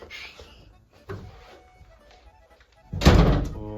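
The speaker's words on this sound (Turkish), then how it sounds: "Kapıyı da kapat." A door shuts with a single loud thunk near the end, after a few softer knocks and movements in a room at home.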